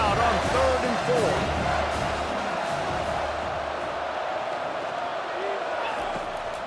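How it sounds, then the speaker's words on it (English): Dense, steady crowd roar fills a college football stadium during a Colorado State versus Utah State game, a continuous wash of noise with faint voices and whistles cutting through. "They not only have to deal with this defense, but the noise from this crowd on 3rd and"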